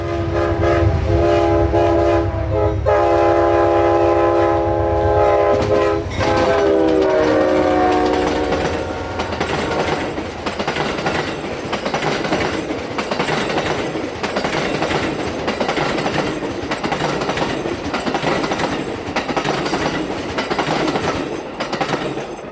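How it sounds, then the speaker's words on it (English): Ethanol freight train passing in Florida, its horn blaring in long sustained chords up close, then a steady rumble and rhythmic clickety-clack of wagons rolling by continuously. "Got another ethanol train now."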